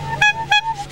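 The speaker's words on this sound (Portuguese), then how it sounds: "a buzina." At an antique car show, the horn of a 1976 Volkswagen Beetle gives two short, nasal toots in quick succession over a low background hum.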